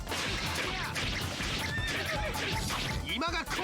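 A horse neighs in the Samurai Warriors video game, its whinny rising amid a dense wash of battle noise and game music, with speech-like voices mixed in throughout.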